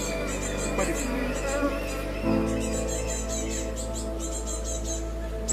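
Bees swarming around a beekeeper in Rwanda, giving a dense, steady buzz that stays close and continuous throughout, with faint voices in the background.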